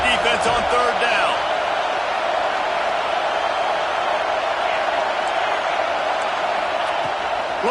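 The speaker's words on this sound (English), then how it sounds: "Decibels rising as the crowd gets behind this defense on 3rd down." Stadium crowd at a football game roaring steadily on third down, a dense sustained wall of noise with scattered whoops and no letup.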